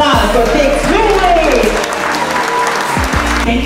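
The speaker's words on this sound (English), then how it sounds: "Big round of applause for Big Tui." A crowd at a memorial celebration of life gives a sustained round of applause, loud and near, while a speaker's amplified voice carries over the clapping.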